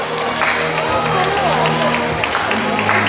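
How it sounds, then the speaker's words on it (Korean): Audience applause at a national environmental protection and energy-saving rally, continuous crowd clapping under a steady musical backdrop, fairly loud and unbroken. "뜨거운 축하 박수 부탁드립니다."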